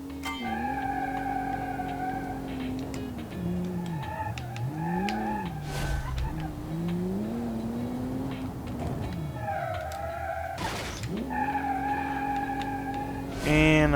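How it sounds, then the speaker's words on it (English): In the racing game Automation, a virtual car, the SXS Tarshish, spins its wheels and squeals its tires on a test track, a continuous loud engine whine rising and falling across the run with skidding screeches. "Definitely gets some good wheel spin"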